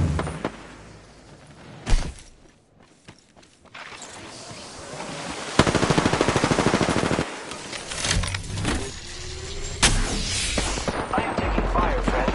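Machine-gun fire in an online shooter video game rattles in loud, dense bursts with brief lulls between volleys, close and harsh throughout.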